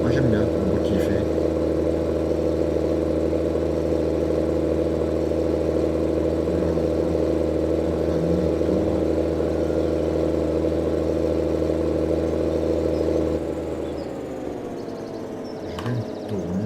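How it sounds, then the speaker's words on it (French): A farm tractor's engine runs steadily at a loud, constant throttle, then drops to a quieter level near the end. No one speaks. "J'aime bien le bruit du gaz du tracteur"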